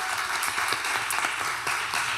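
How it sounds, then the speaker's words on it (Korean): A church young-adult group's audience claps in thanks for panelists at the end of an event: dense, continuous indoor applause from a room of people, fairly close and even throughout. "앞에서 답변해주신 패널분들에게 감사하다는 의미로 박수 한번 치겠습니다."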